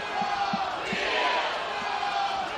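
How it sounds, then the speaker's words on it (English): A crowd cheers and roars at Boshamer Stadium during a 2019 NCAA baseball tournament game between North Carolina and Tennessee, a sustained distant swell of voices with faint rhythmic clapping. "Another fired up crowd here at Boschimer Stadium"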